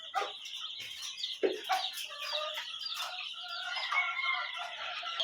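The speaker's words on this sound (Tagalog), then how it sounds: "ito yung mga sisiw" Chicks of a raptor sweater chicken flock peeping in a steady high chatter, with occasional clucks from adult fowl close by, no voices.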